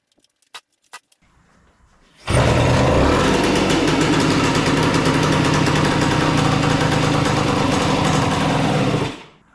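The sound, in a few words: Suzuki TS185 two-stroke dirtbike engine idling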